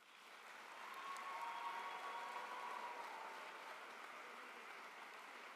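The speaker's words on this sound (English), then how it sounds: "please join me in expressing our appreciation and thanking them with a round" A graduation ceremony audience applauds, heard as a faint, distant, continuous patter of many hands that swells briefly and then holds steady.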